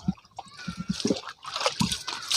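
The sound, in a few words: water splashed onto someone's feet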